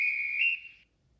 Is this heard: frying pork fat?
no